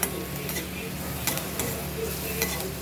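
Onion and crushed garlic tempering sizzle in a pan in a constant, close fry, broken by light scrapes and clinks of stirring.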